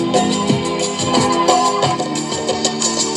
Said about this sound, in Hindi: ये टेप की आवाज है